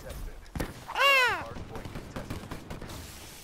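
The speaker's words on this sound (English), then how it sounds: "He's killing me with a pistol!" Pistol fire in a video game rings out as a few sharp, close shots amid game noise, with a loud voiced yell rising over it and scattered further cracks afterward.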